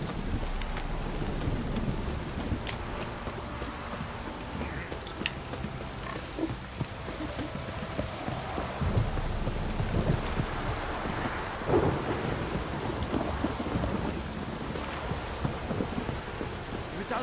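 Steady rain pours down with low rumbling thunder rolling underneath in The Witcher 3, a dense, continuous and fairly loud outdoor storm with no voices.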